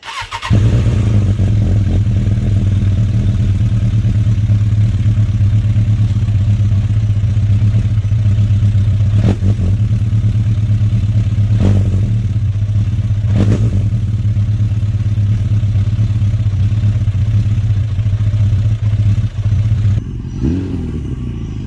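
A lowered 2006 Suzuki Katana motorcycle starts and settles into a steady, loud low idle rumble held close for about twenty seconds, with a few faint clicks over it before the engine cuts off near the end.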